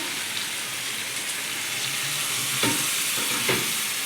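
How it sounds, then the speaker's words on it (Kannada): Chicken for chicken pulao sizzles loudly in a pan as water is added, making a dense, steady close hiss with a couple of brief stirring clunks, no voices. "ನಾನು ಸ್ವಲ್ಪ ನೀರು ಹಾಕ್ಕೊತಾ ಇದ್ದೀನಿ."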